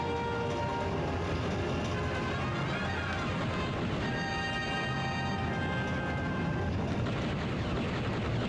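Steady rumbling train noise from Star Wars: Shadows of the Empire, a 1996 video game: a continuous low roar with rail clatter and a tonal whine, loud and unbroken throughout.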